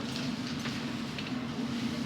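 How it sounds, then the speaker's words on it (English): A London Underground Hammersmith & City line train runs along the track, a faint steady rumble with a low hum and soft rattling, heard from inside the carriage. "This is a Hammersmith and City Line train to Barking."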